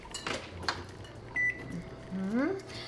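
A microwave oven gives a short electronic beep to signal that the food needs mixing, amid kitchen clatter and a brief rising whine.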